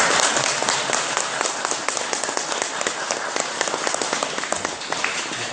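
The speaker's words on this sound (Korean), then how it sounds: "다시 한번 박수 좀 쳐드리겠습니다" Audience at a Buddhist temple dharma talk clapping together, a dense, even rattle of many hands sustained throughout at close range, with no talk over it.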